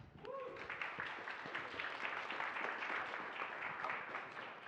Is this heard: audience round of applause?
yes